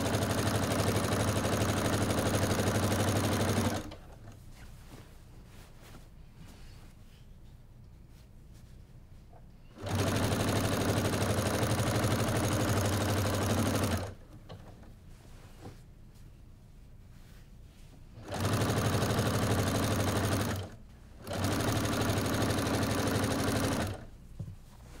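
A sewing machine stitching quilt binding runs in three loud, steady bursts of several seconds each, separated by quiet pauses with faint handling sounds.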